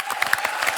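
A studio audience at a comedy talk show claps and cheers in a short, dense burst of loud applause.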